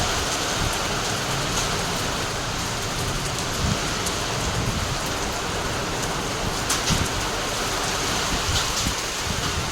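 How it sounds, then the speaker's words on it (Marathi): Dense pattering on metal roof sheets, steady and loud for the whole stretch, with occasional sharper hits standing out as hail strikes the metal. "पत्रावर आवाज येतोय टपटप आणि पांढरी गार पडते खाली."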